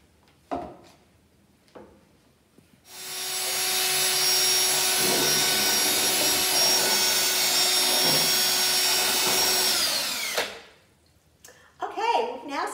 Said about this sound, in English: this is a cordless battery operated drill that has a an attachment on the end